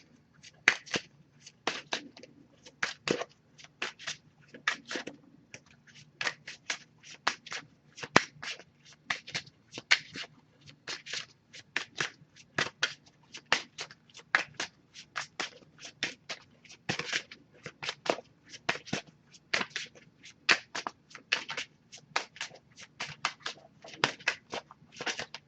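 A deck of oracle cards is shuffled and handled at close range: a long run of sharp, crisp card snaps and flicks in an irregular but steady rhythm that continues for about twenty-five seconds against a quiet background.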